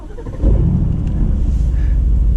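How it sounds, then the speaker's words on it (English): 2020 Aston Martin Vantage twin-turbo V8 firing up, a brief starter churn giving way to a sudden deep rumbling idle that holds steady, moderately loud and close, with no voices over it. "now we're going to start up and fire up that V8 turbo"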